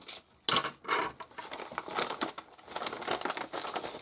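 A wrapped parcel being opened with scissors: close paper and packing crinkle and rustle in uneven bursts, starting with one sharp tearing crackle and then settling into continuous handling noise.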